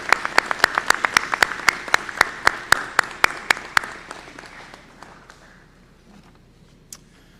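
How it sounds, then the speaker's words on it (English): Applause at a university commencement ceremony for graduates' families and friends, with a steady run of sharp, regular claps over a soft crowd bed that fades out after about four seconds, ending in near quiet. "Join me in a round of applause"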